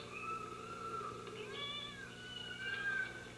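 Cats meowing inside a broadcast studio, several drawn-out wavering meows following one another at close range, fairly faint over a low steady hum with no voices.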